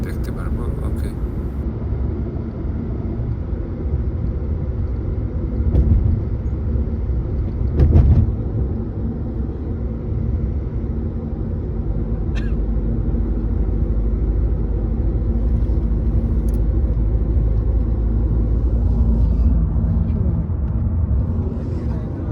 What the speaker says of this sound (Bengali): গাড়িটা আমরা ঘুরে নিয়ে আসি তারপর পার্কিং করে এরপর নামবো আমরা অলরেডি পার্কিং খুঁজতেছি